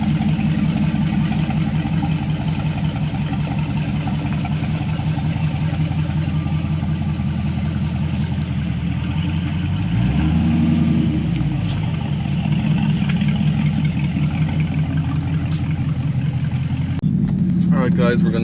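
A Dodge 392 V8 with a Spelab exhaust runs loud and steady, a deep rumbling drone with a swelling rev midway, while people talk over it.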